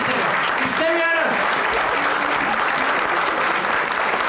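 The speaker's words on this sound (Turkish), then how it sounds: "Kadar zayıf bir alkış." Loud, dense applause from a theatre audience at a 1994 stage comedy show, continuous and full throughout, with a brief voice heard over it near the start.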